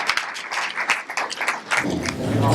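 An audience at a town board meeting applauding a tennis team, scattered and uneven hand claps at moderate volume, with a voice starting to speak at the end.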